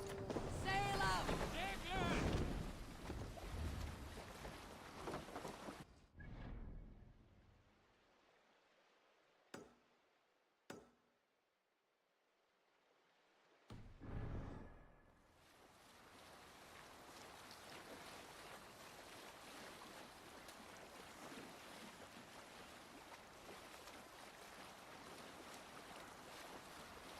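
A Viking longship under sail on a river in Assassin's Creed Valhalla, with steady water wash and wind, loud at first, then briefly cut to near silence before a low, constant wash returns.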